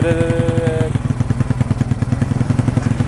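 An upgraded Yamaha Nouvo motorcycle engine settles after being revved, throbbing in a loud, close, steady low pulse, with a brief whine at the start.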